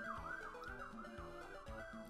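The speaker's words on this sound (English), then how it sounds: "thank you, Ambulance, for being in the background" An ambulance siren wails in the background in a steady, repeating rising-and-falling pattern, faint and continuous throughout.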